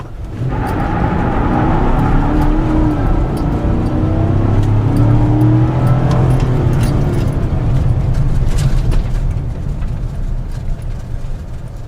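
A 2016 GMC Sierra 4x4 pickup accelerating hard and then braking: a loud, sustained engine roar that rises and holds for several seconds before easing off, with some rattling over it and no talk.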